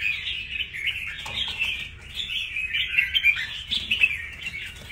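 A red-whiskered bulbul sings a lively, continuous run of bright chirps and warbled phrases, close and clear, with no voices.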